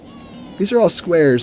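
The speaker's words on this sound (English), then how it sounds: "This is my cat." A pet cat meows twice, loud and close, with rising and falling cries, while a person talks just before and between them.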